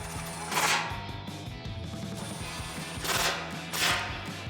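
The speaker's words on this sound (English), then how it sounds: "we can tighten up the back bolts with a 13mm socket" A ratchet with a 13mm socket tightens the rear skid plate bolts on a 2005-2021 Toyota Tacoma 4WD during a lift kit install, giving three short raspy bursts, one early and two close together near the end, over a steady hum.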